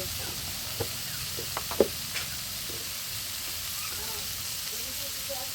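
Ginger garlic paste, green chilli and cumin sizzle steadily in a hot pan, a continuous soft hiss broken by a few small pops and spatters.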